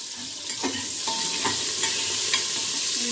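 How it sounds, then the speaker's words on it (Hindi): Potato pieces frying lightly in a pan for a Bengali mutton curry, a steady close sizzle with a few stirring scrapes across the clip and no talk. "आलूटाके आमी हल्का फ्राई करे नेब"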